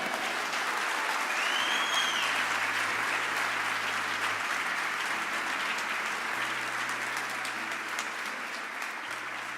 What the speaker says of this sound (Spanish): Amén, dale un aplauso al Señor